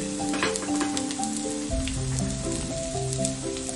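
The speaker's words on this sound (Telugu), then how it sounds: "మూత పెట్టేసుకొని ఫ్రై చేసుకుందాం కొంచెం" Colocasia (taro) pieces frying in a covered pan give a continuous close sizzle with a patter like rain and faint stirring knocks, steady and moderately loud, and no one speaks.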